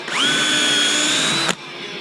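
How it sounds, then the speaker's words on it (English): A power drill whirs up to speed and runs steadily for over a second at close range, drilling a pilot hole in wood for a rustic end table, then cuts off abruptly. "Just drill a pilot hole."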